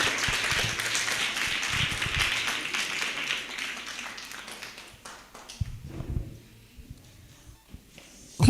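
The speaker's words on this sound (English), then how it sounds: "Clap for him as he's coming." Audience clapping at an International Children's Day celebration, dense and steady for about five seconds, then thinning out into scattered claps and a few low bumps as it dies away.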